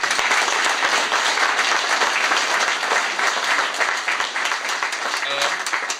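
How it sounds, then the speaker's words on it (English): Round of applause for the caterers at a Midland Red reunion gathering, a steady dense wash of many hands clapping from a room full of people, continuous and fairly loud throughout. "I'd like to give them a big round of applause for that"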